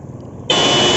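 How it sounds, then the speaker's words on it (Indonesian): A motorcycle horn sounds one loud, steady buzzing honk that starts abruptly halfway through and holds to the end, tested off the bike's battery. "Kita nyalakan klakson"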